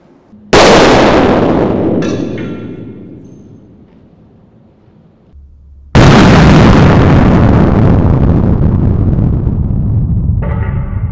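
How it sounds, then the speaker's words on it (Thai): Two very loud gunshots ring out close by, each a sharp blast followed by a long echoing decay, fired at a Thai amulet at a shooting range. "พร้อมแล้วเริ่มยิง"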